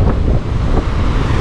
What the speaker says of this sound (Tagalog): ang style ng alon dito pa rin